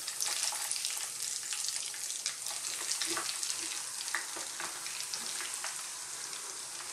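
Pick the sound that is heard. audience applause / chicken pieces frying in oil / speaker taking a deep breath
chicken pieces frying in oil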